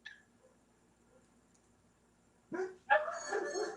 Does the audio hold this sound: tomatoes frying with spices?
no